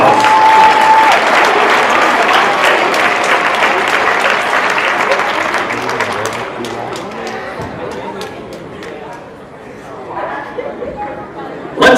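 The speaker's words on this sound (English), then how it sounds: "Let's give them a big Bulldog round of applause." A gym crowd gives a loud, sustained round of applause for senior volleyball players at a high school match, the dense clapping thinning out toward the end under scattered cheers and chatter.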